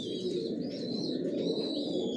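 Baby racer pigeons coo softly in a loft, a low continuous murmur of overlapping coos with faint higher chirps above it.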